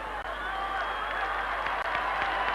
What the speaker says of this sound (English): The applause you can hear is for Noel Leary coming off